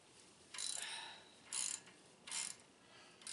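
A ratchet wrench turns the caliper bracket bolt on a 2005 Lincoln Towncar during a pad and rotor change: three separate bursts of rapid metallic ratcheting clicks, close and fairly loud, with quiet gaps between.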